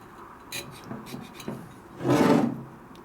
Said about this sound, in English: Why do you scrape the gasket surface off like this?